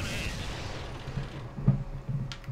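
A turreted tank destroyer's cannon fires in World of Tanks, a dull, muffled boom under a low engine rumble, followed by a faint later report.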